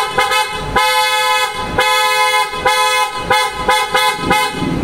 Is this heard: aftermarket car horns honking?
yes